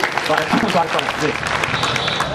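Audience clapping at a Hindi poetry and ghazal gathering, a short, moderately loud patter of applause mixed with voices and murmuring from the crowd.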